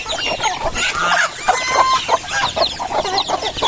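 Chickens and their small chicks cluck and cheep close by, with busy overlapping clucks and high chirps and a brief crow-like call among them, outdoors under trees near free-ranging pigs.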